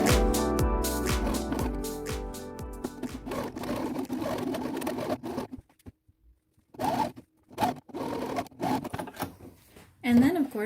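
A sewing machine stitches a fabric facing to a suit body in quick mechanical bursts, pausing midway before resuming in shorter runs, with a person talking over the work.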